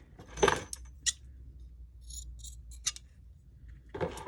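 Scissors snip through paper for a journal cover in a few short, crisp cuts with faint metallic clicks, close and spaced out over quiet room tone.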